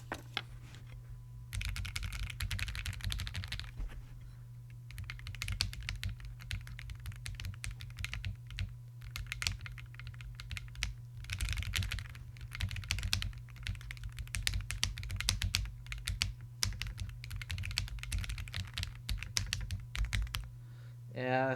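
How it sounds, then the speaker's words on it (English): A Bakeneko65 mechanical keyboard with KTT Peaches switches is typed on in a steady, clacky stream of close keystrokes for about twenty seconds, with a voice talking at times over the typing. "The keyboard. It's a keyboard. It sounds like a keyboard. It's pretty clacky."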